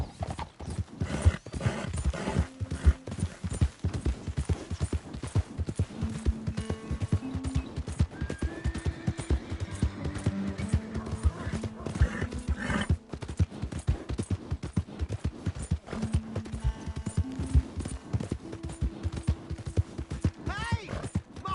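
Rapid galloping hoofbeats from a horse in a PS4 video game, a continuous dense clip-clop with occasional neighs over game music, and speech mixed in.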